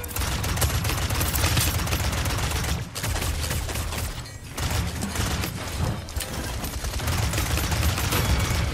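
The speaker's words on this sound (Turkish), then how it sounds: "Sağdan vuruyor." Dense, continuous gunfire from the video game Paladins, rapid shots layered with mechanical clatter and booms, loud and sustained with brief dips in the middle.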